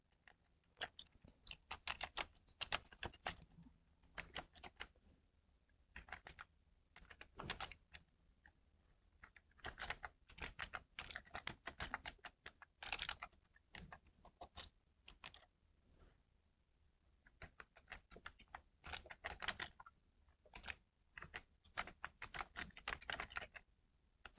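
Close, quiet typing on a computer keyboard while entering text in MS Word: quick bursts of key clicks broken by short pauses, with no voices.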